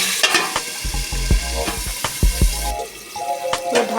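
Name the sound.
vegetables frying in a covered pan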